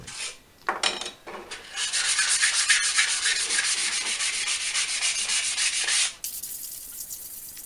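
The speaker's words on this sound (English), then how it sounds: "So a little sandpaper just to give it a nice smooth finish for the paint to adhere to." Sandpaper rubbed by hand over a scythe blade to smooth it before painting, a steady dry rasping stroke that runs for several seconds after a couple of short scrapes, close and fairly loud, then stops abruptly.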